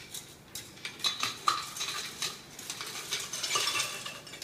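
A spoon scrapes and clinks against a blender jar while tequila, triple sec and other frozen margarita ingredients are pushed in, giving irregular metallic taps and scrapes at moderate, close level with no voices.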